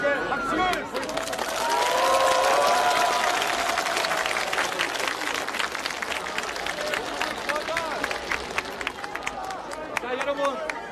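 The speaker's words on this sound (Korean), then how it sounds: "우리 모두에게 박수를 보내주십시오" Audience applause at a Seoul election press conference, a dense crowd clapping with cheering and babble, loud at first then thinning into scattered claps over about eleven seconds, with talk mixed in.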